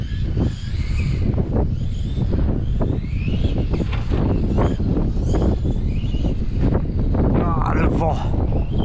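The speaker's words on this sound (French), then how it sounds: "Ah, le vent." Strong wind roars and buffets the microphone in uneven gusts, with a voice speaking briefly underneath.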